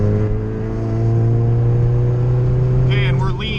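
A Honda CRX engine pulling at half throttle on a street run, a steady loud drone with strong low harmonics held throughout, heard from inside the car, with a voice speaking over it near the end.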